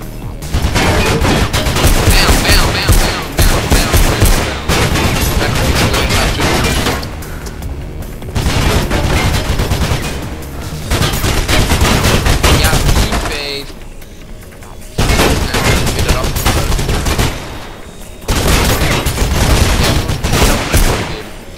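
Bursts of gunfire and booms from the first-person action game Mirror's Edge, loud repeated fusillades broken by short pauses, with game sound and voices in between.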